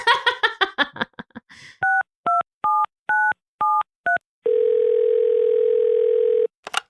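A telephone handset beeps out a quick run of evenly spaced dialing tones, then a long steady dial tone holds for about two seconds, preceded by a brief burst of talk and ending with a click.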